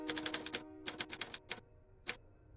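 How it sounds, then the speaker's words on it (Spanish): A mechanical typewriter types out opening credits in quick bursts of crisp key strikes, a rapid cluster followed by another run and a lone final clack, close and clear against silence. "Una máquina de escribir escribe los créditos iniciales"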